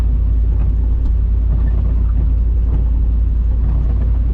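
An old, rusty pickup truck with stiff suspension drives steadily, its engine rumble and road noise forming a loud, continuous low drone with no talk over it.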